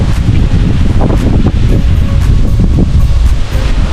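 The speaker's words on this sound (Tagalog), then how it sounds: "pabukso-bukso po yung hangin minsan po tumatahimik bago bigla pong ano Agkada na naman" Typhoon Kristine's wind gusts roar loudly across the microphone, a dense, buffeting rush that surges and dips in rapid pulses with no voices.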